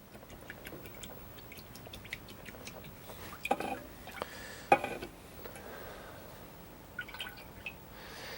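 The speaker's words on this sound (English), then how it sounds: "rinse your brush out" Paintbrush being rinsed in a water container during an acrylic sailboat painting, with faint soft splashes, drips and light clinks against the container, quiet and intermittent.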